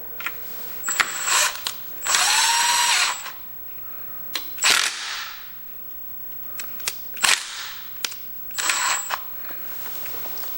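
Short bursts from an impact-type power tool chatter and whir, interspersed with sharp clicks and clanks, as bolts are fitted on a 16-horsepower engine being swapped into a 1974 John Deere 112 lawn tractor; close and loud, with quiet pauses between.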